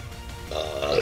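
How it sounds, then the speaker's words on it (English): A loud, drawn-out burp from a man during an excited Pokémon card pack opening, rising out of low background noise and lasting about half a second. "And burping as well!"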